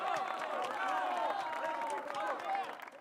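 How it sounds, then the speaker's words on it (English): A RuneScape crowd applauds in-game, a soft, steady patter of clapping mixed with murmured babble that fades near the end. "Oh, we're supposed to applaud?"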